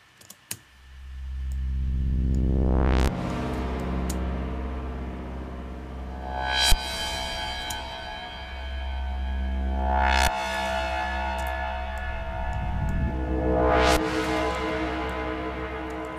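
A sustained FM synthesizer tone in Ableton Live with rising sweeps, its timbre shifting repeatedly over about sixteen seconds, loud and continuous with no talking.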